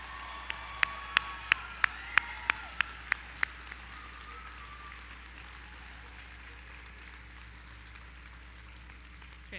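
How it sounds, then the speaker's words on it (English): Applause from a seated audience at a spring 2017 nursing pinning ceremony, heard as a short burst of scattered clapping with a few distinct loud claps in the first few seconds before fading into quiet room tone. "we must absolutely applaud our 2017 spring nursing class"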